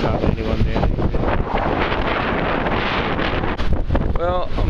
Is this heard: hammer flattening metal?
no